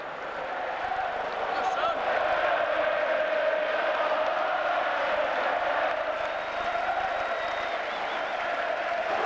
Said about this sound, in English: But we've got the town crowd today. Listen to it, it's fantastic.